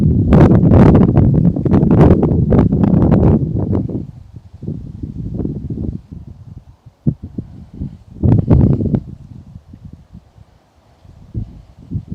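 Wind gusting at a fishing lake, buffeting the microphone in strong rumbling bursts that ease off midway, then return in shorter gusts, loud and close with no talking.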